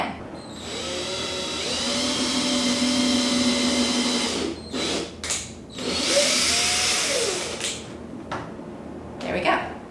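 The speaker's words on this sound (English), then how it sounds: "And we're just going to drill in the hole again." A power drill whirs steadily for several seconds boring a hole for a guitar end pin, pauses briefly, then spins up again for another run before stopping.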